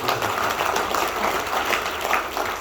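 A business event audience in Sumatra claps together, a dense steady wash of hands lasting the whole stretch at moderate distance, with no voice over it.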